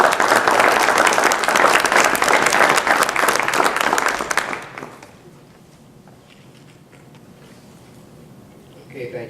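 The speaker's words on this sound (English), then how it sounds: "Let's give them all a round of applause." Attendees at a school board meeting applaud students, a loud burst of many hands clapping that stops abruptly partway through, leaving a quiet room with faint shuffling.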